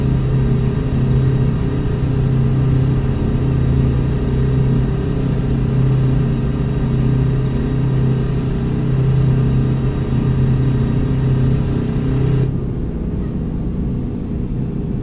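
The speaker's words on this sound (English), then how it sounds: "I think the game just likes to hear me change gears." A K100 truck engine in a driving video game runs with a steady, loud low rumble throughout, holding a constant drone before the tone drops and settles slightly lower near the end as the gears change.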